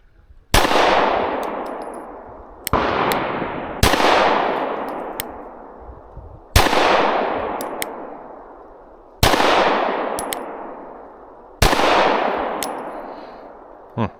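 Six loud, sharp pistol shots from a PSA Micro Dagger C-1 handgun fired at a range, spaced irregularly a second or two apart, each with a ringing decay and no talking.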